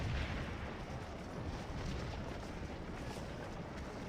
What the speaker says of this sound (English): rebels brought up some artillery real far